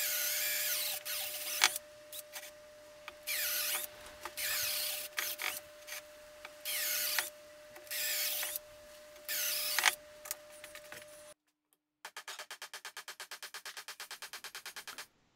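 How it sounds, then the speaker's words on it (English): A power drill bores holes in a wooden base for mounting reclaimed bed casters on a cyclone shop vac, whining in repeated loud bursts with short pauses, followed by a steady rapid mechanical ticking near the end. "I then drill the holes for the casters, being careful not to drill all the way through."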